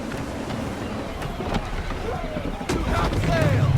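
Gusty wind howls and rushes over the open sea aboard a sailing ship in Assassin's Creed III, a steady broadband roar that swells louder toward the end, with creaking and water noise mixed in.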